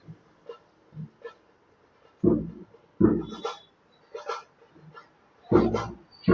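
A puppy gives a string of short, high yips and barks with small whimpers between them, close by, while a person speaks softly at times.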